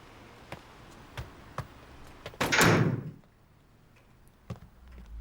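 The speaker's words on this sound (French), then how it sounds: "Venez, vous allez bloquer la porte." A door is shut with a loud, close slam that rings out briefly, set among scattered faint knocks and clicks in a quiet room.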